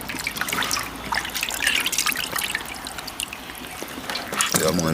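Raw chicken is washed under water with vinegar, with a steady trickling, splashing stream running throughout and a voice talking over it.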